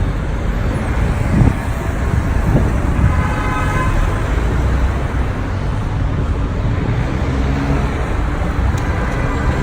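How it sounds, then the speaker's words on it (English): Dense city traffic fills a Paris street with a constant roadway rumble and engine noise, while car horns toot now and then against the steady, loud wash. "I love all the traffic."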